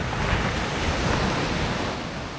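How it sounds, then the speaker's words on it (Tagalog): Strong ocean waves crash and roar continuously at a beach in Sipalay, a loud, broadband rush of surf mixed with wind buffeting the microphone, with no voices. "ang lakas ng alon today"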